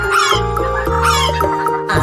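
A hen clucks loudly and close up, a quick run of throaty, rhythmic clucks with no other sounds.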